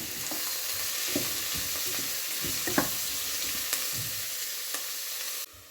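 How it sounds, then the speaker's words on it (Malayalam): Sliced onions sautéing in a pan, a constant bright sizzle broken by scattered scraping stirs and light clinks, then cutting off abruptly at the end. "അപ്പോൾ ഇതാ സവാളയൊക്കെ വഴന്ന് വന്നിട്ടുണ്ട്."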